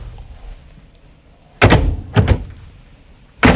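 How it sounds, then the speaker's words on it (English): A magnetic pocket door in a Renegade Explorer 38EMB motorcoach slides and thuds into place, followed by two quick knocks of it moving again and another bump at the end, close by in a quiet room. "So all pocket doors, they're just magnetic."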